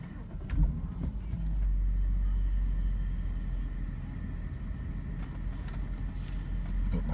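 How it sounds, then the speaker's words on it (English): BMW E60 engine starting, a short cranking burst followed by a low, steady idle rumble inside the car, with small clicks and handling noises over it. "Start the car."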